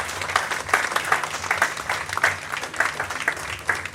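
A congregation applauds inside a church during a religious wedding ceremony, with steady, dense clapping from many hands sustained throughout without pause.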